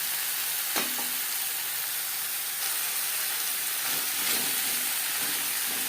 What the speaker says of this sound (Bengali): কম তেলে রান্নাটা করবো তাই আমি একসাথেই ভেজে নিচ্ছি